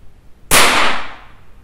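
A single loud, sharp gunshot from a Pedersoli black powder gun at a 10-meter range, a sudden blast with a long smoky hiss of decay, close and alone.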